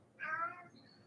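A pet cat gives a single short, close meow that rises and falls, followed by a faint higher trailing tone.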